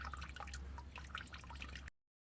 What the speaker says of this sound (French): je vais laisser ça s'égoutter